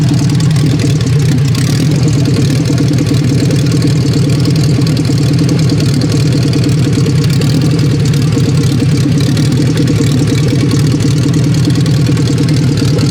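A 500 hp Honda Civic project car engine idles loudly right beside the tailpipe, a steady low rumble with exhaust pulsing that never lets up for the whole stretch.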